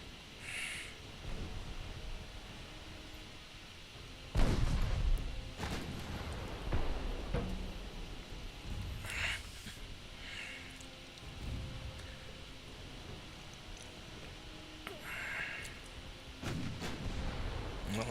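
Warship main guns fire in a naval battle game set with an Imperial Japanese fleet, loud booming salvos with a strong onset near the middle and several more blasts scattered across, over a constant rumbling battle background.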